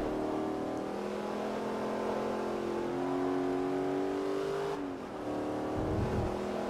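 Racing cars in Forza Motorsport 3, including Pontiacs, drone steadily at high revs with engine whine that shifts as gears change, then a car surges past and accelerates away, with no talk.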